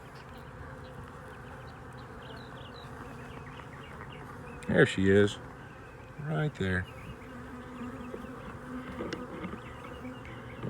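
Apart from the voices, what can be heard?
honey bees buzzing on a hive frame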